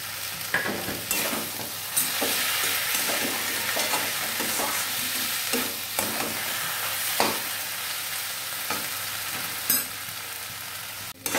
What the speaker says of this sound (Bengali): ভাজা ভাজা হয়ে গেছে মোচাটা।